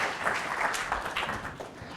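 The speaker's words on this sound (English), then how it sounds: "yes, we should clap for Rory as well" An audience at an astronomy talk on gravitational waves from merging neutron stars claps for about two seconds, a moderate, steady patter of many hands that thins slightly toward the end.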